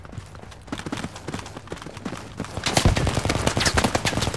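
Enemy gunfire in the military shooter game Project Reality, rapid cracking shots building into a dense volley, close and loud, with a faint voice in the background.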